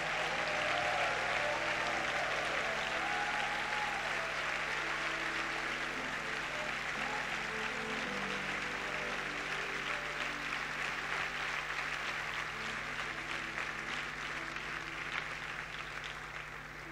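A church congregation at a Sunday service applauds in praise to God, sustained dense clapping in a reverberant hall that holds steady for the full span with only a faint voice underneath.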